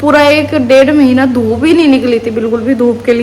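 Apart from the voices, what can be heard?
None of the usual background noises is heard.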